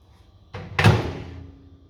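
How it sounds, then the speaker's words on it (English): A Black & Decker microwave door swung shut, producing a single soft swish followed by a solid thunk and a short fading rattle, close and clear with no talking. "Close the door"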